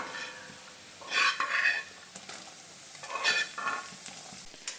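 Ginger, garlic and sliced onion frying in a pan for a tapioca curry, a steady low sizzle broken by two bursts of spatula stirring and scraping, close and clear with no voices.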